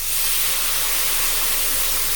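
Chardonnay poured into a hot risotto pan hisses and sizzles in a loud, continuous steamy spray that holds steady from start to finish.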